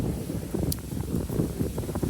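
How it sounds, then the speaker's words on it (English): Steady wind gusting outdoors with a low rumble that buffets the microphone throughout, with no voices. "It is windy out today"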